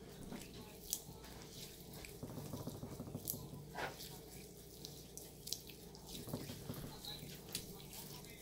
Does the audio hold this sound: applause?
no